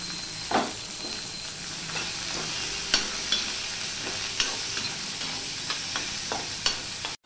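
Chopped onions fry in a pan over a low-to-medium gas flame, a steady close sizzle broken by repeated scraping clicks of stirring, made while cooking a Bengali bean (shim) dish.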